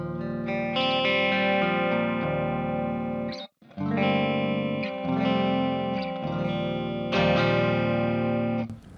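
An electric guitar with split inner coils plays sustained chords and notes through an STL ToneHub amp preset, picked softly for a cleaner, lightly distorted tone with a brief pause midway.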